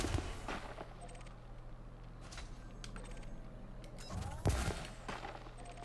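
Laser fire crackles in bursts against asteroid chunks in the space game Elite Dangerous, over a steady low ship hum, with a sharper impact burst near the end; fairly quiet overall.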